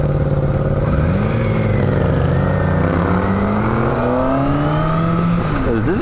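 A motorcycle engine revs loud and close as the bike climbs a flight of stairs, its pitch rising and falling steadily under continuous roaring with a brief clatter near the end.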